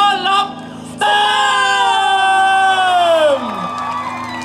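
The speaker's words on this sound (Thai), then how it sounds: "ขอเสียงกรี๊ดและปรบมือดังๆต้อนรับ" A crowd at a band's concert performance at the Bangkok Art and Culture Centre shrieks and whoops loudly in welcome, a sustained, high, tonal cheer swelling after a short pause and then easing off.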